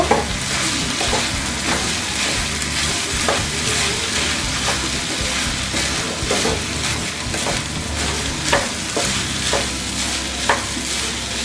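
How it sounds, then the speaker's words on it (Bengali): Washed rice is stir-fried for beef tehari in a steady, close sizzle, with repeated scraping strokes of a spoon through the pot. "এর মধ্যে আমি চালটা দিয়ে দিচ্ছি চালটা আমি আগে ধুয়ে ছেঁকে রেখেছিলাম ভালো করে চালটাকে বাঁচতে হবে এক দুই মিনিটের মতো"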